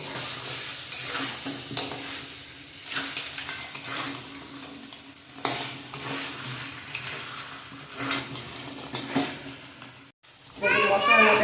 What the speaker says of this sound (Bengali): কাঁকড়াগুলো মশলার মধ্যে বেশ কিছুক্ষণ কষিয়ে নেবে